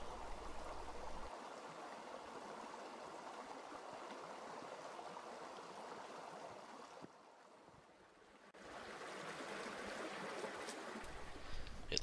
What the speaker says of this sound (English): this canyon has an even bigger stream than the Eastern Canyon does